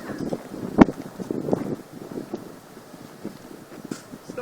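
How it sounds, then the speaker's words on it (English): Gusting wind in a microburst rainstorm, rough blustery rushes buffeting the microphone with one sharp loud burst early on, then uneven lighter gusts. "You watch the wind pick up on this if it comes back."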